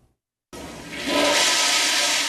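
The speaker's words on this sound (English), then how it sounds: "When you flush, the water is supposed to head out through a sewer system." A toilet flushes in a home whose sewage has been flowing into the front yard. After a moment of silence a sudden loud rush of water starts close by and builds into a steady roar, with no voices.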